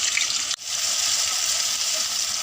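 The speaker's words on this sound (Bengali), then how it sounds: "এখন বেটে রাখা মশলাটা দিয়ে দিলাম, মশলা ধোয়া জল দিলাম" Water pours steadily into a pan of chicken curry spices after the ground masala goes in, a continuous close gushing hiss with one brief break near the start.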